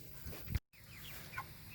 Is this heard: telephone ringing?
no